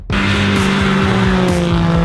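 A Mercedes A45 AMG engine revs hard on the throttle, loud and close, a sustained roaring drone with pops and rising-falling pitch sweeps, with no talk.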